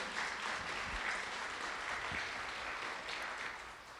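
Audience applause for a volunteer board at a welcome session of a B Local PDX regional gathering, a steady wash of clapping sustained throughout without speech.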